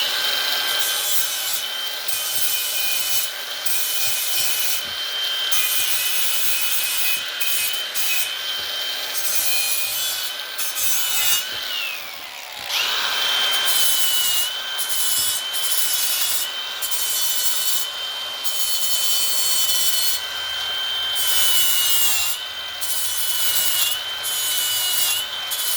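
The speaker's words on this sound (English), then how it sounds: "I don't know if I can get in here with this grinder, but I'm going to give it a little buff." A grinder buffs a weld on an old Ford, a steady loud abrasive whine with gritty rubbing texture that dips briefly midway, then resumes unbroken.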